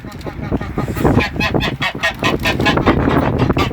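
A flock of farm geese honks loudly and continuously while being fed wheat, with overlapping close calls.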